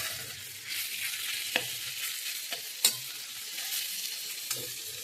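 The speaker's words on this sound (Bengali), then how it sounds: "এবার এটাকে খুব ভালো করে নাড়াচাড়া করে অনেকক্ষণ ধরে ভাজা করতে হবে" Watery vegetables sizzle steadily in a pan, close and moderately loud. They are stirred at intervals, and a few sharp scrapes and clicks of the spatula against the pan stand out over the frying hiss.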